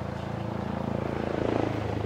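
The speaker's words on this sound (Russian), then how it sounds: "Мурлыкающий вертолет." Helicopter rotor in the video game Crying Is Not Enough, a steady rhythmic chopping drone that holds at an even loudness and swells slightly toward the end, with no talk over it.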